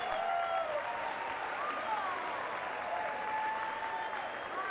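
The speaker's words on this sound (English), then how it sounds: "Absolute rapturous applause here for Steve Lowery." A golf gallery at a professional tournament's final round gives sustained, rapturous applause, a dense, steady wash of clapping from a large crowd heard at a distance, fairly even throughout without talk on top.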